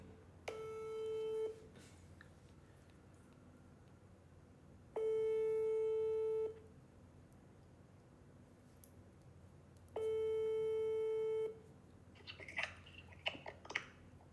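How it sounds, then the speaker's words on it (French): A phone's outgoing-call ringing tone repeats three times in steady, evenly spaced steady bursts, fairly quiet and clear over a low room hiss, with faint rustling noises near the end. "on va appeler la mère de Muriel et on va lui dire tout de suite"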